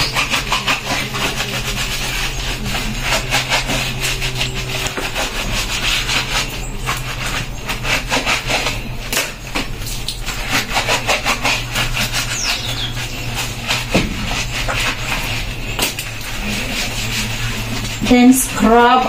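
Clothing sleeves are scrubbed and washed during a bath in a village bathroom in Africa, producing continuous brisk, close rubbing and scraping, with heavier handling noise toward the end.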